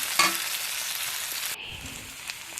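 Paneer curry masala sautéed and stirred in a pan, a steady soft sizzle with faint scraping that drops slightly quieter partway through, close and alone.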